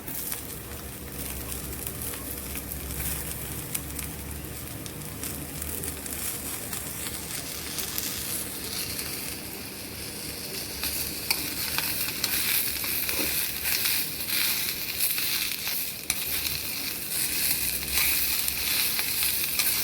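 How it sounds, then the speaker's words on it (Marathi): Onion, coconut, garlic and tomato roast in a pan for a cowpea and potato curry paste, giving a steady close sizzle with occasional stirring scrapes that grow a little brighter and louder later on. "आता आपण थोडंसं टोमॅटो पण घालूया त्याच्यात छान हे भाजून घ्यायचं आपल्याला सगळं मस्त"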